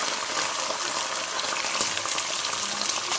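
Garlic and ketchup being stirred in a hot frying pan, a steady broadband sizzle with faint scraping, continuous and close throughout, no voices.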